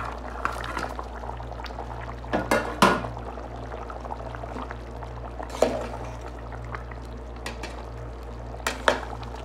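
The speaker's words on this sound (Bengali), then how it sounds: "এখন আমরা ভাজা ডিমগুলো ঝোলের মধ্যে অ্যাড করে দেবো।" Fried eggs are added to a simmering curry gravy of potato, cauliflower and carrot. Liquid pours and splashes in a few short bursts over a low steady hum, with quiet bubbling between them.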